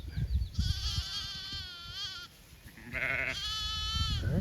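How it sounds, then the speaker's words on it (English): Lambs and ewes from a flock of parasite-resistant sheep bleating in several overlapping calls, clear and fairly close, with a low rumble of background noise underneath. "This may be the healthiest set of lambs I've ever seen."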